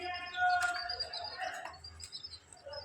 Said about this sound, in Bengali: আর এখানে হচ্ছে মিমের সেই আদরের মুরগির ছানা খাবার খাচ্ছে।